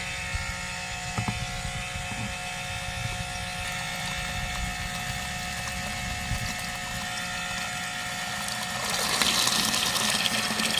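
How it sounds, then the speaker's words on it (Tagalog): Water pours into a 16-liter bucket of dry soil and rice hull bokashi mix, a steady broadband splashing rush that swells louder near the end. "yun guys lagyan natin tubig"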